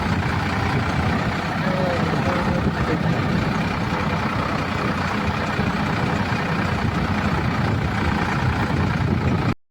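A tractor engine runs in a farm field with a continuous low, rumbling drone that holds steady for the whole stretch while a person talks over it.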